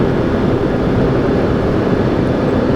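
Boeing 737 jet engines at climb thrust give a loud, steady broadband roar that fills the cabin without a break, with no talking over it.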